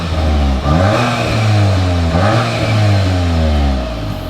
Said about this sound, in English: We're gonna get you some revs.